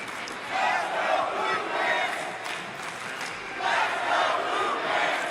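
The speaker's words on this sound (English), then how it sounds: "The crowd, let's go Blue Pants. They're doing their best to will Adam Priest on at this point." A wrestling crowd at a Ring of Honor show chants in rhythmic swelling waves for Adam Priest, a broad arena roar rising and falling across the stretch.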